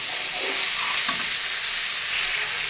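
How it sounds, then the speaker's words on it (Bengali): Cucumber curry sizzles and hisses steadily as it is stirred and fried in a pan, a continuous close frying noise with a faint clink of the spoon partway through. "তরকারিতে একটু ভালো করে নাড়াচাড়া দিয়ে নেব"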